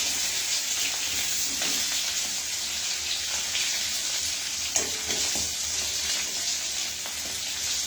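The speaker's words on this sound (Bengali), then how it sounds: "দেখুন আমাদের কেমন লাল হয়ে গিয়ে ভাজা হচ্ছে" Potatoes frying until reddish for spiced masala aloo dum hiss in a continuous loud sizzle, with soft stirring clinks and scrapes scattered across it and no voices.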